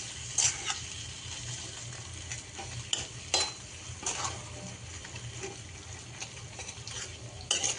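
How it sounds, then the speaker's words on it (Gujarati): Kacchi dabeli masala being stirred in a pan with a steady background sizzle, the spoon scraping and clattering against the pan in irregular strokes, close and moderately loud. "અને જ્યાં સુધી એક સરખું ના થાય ત્યાં સુધી આપણે હલાવતા રહેવાનું છે।"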